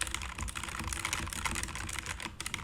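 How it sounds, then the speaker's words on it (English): Rapid, continuous typing on a Logitech G keyboard with low profile switches, a close stream of light clicky keystrokes with no talking. "Now I'll type with my Logitech G something keyboard with low profile switches"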